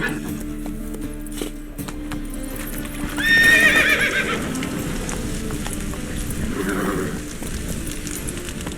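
Horse hooves clip-clop in a quick gallop in The Witcher 3 video game, with a loud neigh around the middle and ambient game sounds behind; a voice speaks briefly.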